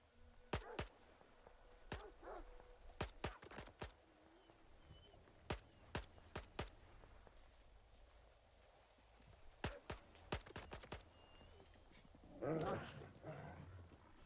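Dogs in the video game Stalker 2 bark in sharp, repeated bursts, with brief whimpers and yips, then a scuffle near the end.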